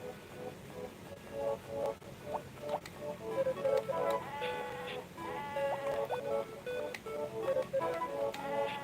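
Sheep in the farming game Harvest Moon: Friends of Mineral Town give soft, repeated bleats that rise and fall alongside light ticking game effects, all fairly quiet.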